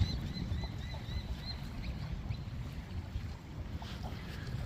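A sightseeing boat out at sea off a Thai beach, its low steady engine and water rumble running continuously under wind noise, with some faint high bird calls above.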